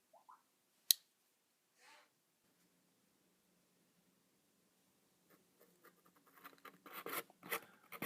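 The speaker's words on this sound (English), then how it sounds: "You can see my box cutter, a couple quick score marks, are going to cut right through this." A box cutter scoring soft wood, a few faint scratches early, then a burst of quick rasping strokes near the end.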